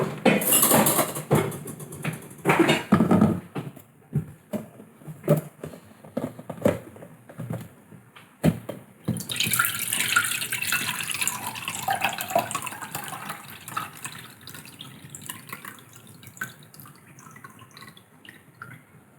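Brine being poured off fermenting chillies: scattered clinks and drips, then a steady splashing pour of liquid that gradually fades to trickles, close by with no talk.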